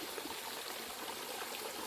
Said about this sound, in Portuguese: escorrendo direto deste lado aqui. Tem bastante água.